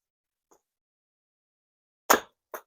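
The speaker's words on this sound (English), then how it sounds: "so I apologise for the noise in the background, but that's Logan chopping the wood" Wood being chopped outdoors for a campfire: a loud, close split around two seconds in, followed by a second sharper strike and the start of a third, with near silence before.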